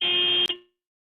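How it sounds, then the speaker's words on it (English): A car alarm at a public coastal state park sounds as a loud steady electronic tone that cuts off abruptly, then decays into silence. "That was a car alarm."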